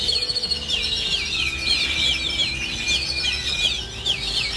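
Small cage birds chirp and twitter in a breeding cage, a steady run of high, repeated calls close by with constant background hiss and no talking.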